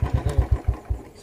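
A motorcycle engine turns over in a quick run of low, rhythmic chugs, about eight pulses close by that fade as it catches or dies, with no talk.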